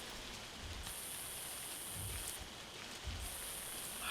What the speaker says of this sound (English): one thing I don't like actually is the rain